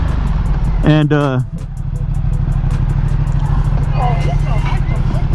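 A 1262 cc Ducati XDiavel motorcycle cruises along on the road, its engine droning steadily close by under wind rush, with someone talking briefly over it.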